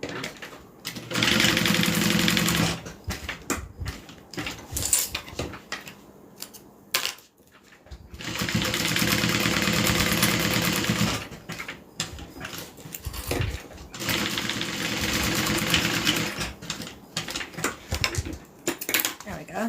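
Sewing machine stitching a custom card wallet down the side, across the bottom and back up the top, in three long bursts of steady mechanical whirring separated by short pauses, with a person talking quietly during the gaps.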